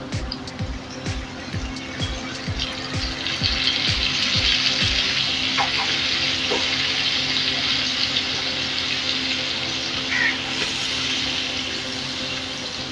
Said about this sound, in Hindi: अब मैं थोड़ा सा पानी डालने लगा हूँ।